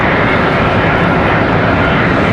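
An airliner in AirCal special livery departs Charlotte Douglas International Airport bound for Chicago, its jet engines a loud, continuous broadband roar throughout, close and unbroken.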